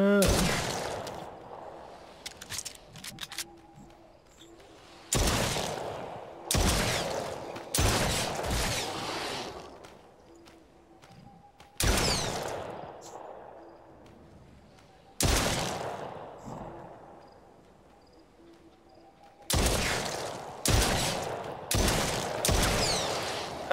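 Gunshots ring out in a first-person shooter game, sharp loud bursts arriving in irregular clusters several seconds apart, each trailing off into quieter background between volleys.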